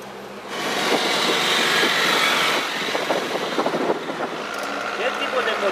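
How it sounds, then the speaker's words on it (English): An old Mercedes-Benz diesel engine in a car in Cuba idles nearby with a steady rough clatter, a busy rattling running under people talking. "You hear that clackety clack clack? That's the sound of a diesel."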